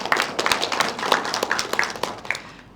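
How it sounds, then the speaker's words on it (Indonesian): A studio audience at a regional parliament dialogue forum claps in scattered, uneven hand claps, a modest round of applause that thins out toward the end. "Boleh tepuk tangan sekali lagi"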